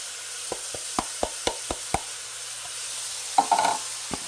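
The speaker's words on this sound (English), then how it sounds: "I want to go ahead and add this chopped onion." Chopped onion goes into a pan of browning ground beef and sausage, with a quiet sizzle under a run of evenly spaced spoon knocks against the pan, then a brief louder hiss and scrape.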